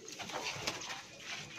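Breeder pigeons in a loft coo softly and continuously, faint and close, with low murmuring calls and no talk.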